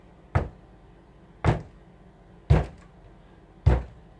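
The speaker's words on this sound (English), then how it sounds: "Knocking started happening in the next room." Four hard, evenly spaced knocks on a door land roughly once a second, loud and close with nothing else around them, a staged knocking effect for a scary story about noises coming from the next room.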